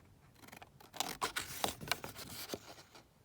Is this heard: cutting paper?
yes